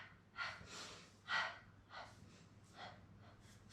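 Sharp paired breaths pushed out through the nose and mouth in a Pilates mat exercise, several short double pumps spaced about half a second apart, close and fairly soft with no speech.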